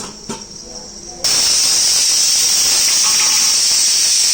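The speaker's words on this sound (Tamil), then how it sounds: "இப்போ குழம்பு கொதிக்குதுப்பா" A steady, loud hiss of Chettinad-style fish curry with mango simmering in a pot sets in after a quieter start and continues without a break.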